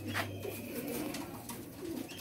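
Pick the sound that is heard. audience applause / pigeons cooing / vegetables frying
pigeons cooing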